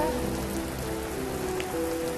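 Steady rain pours down and patters on surfaces, a dense, continuous hiss with no voices over it.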